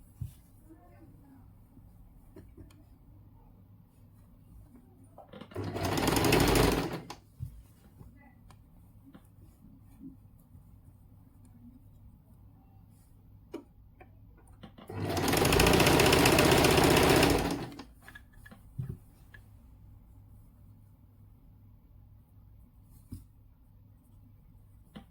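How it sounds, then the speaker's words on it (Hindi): Sewing machine stitching a suit sleeve in two bursts, a short run near six seconds and a longer one near fifteen, steady buzzing whirr between quiet handling noises. "तो अब हम इस पे लगाएंगे सिलाई।"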